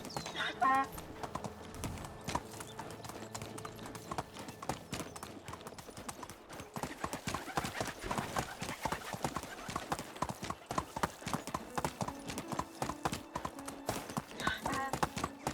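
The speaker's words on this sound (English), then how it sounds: "All the donkey noises." Donkey hooves clip-clop steadily through a farm field in the medieval village game Medieval Dynasty, a brisk rhythmic trot heard close and continuous, with a whinny-like bray early on and faint game ambience underneath.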